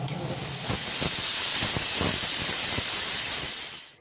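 A pressure cooker holding goat meat lets out a loud, steady hiss of escaping steam for about four seconds, then cuts off abruptly, with no talking.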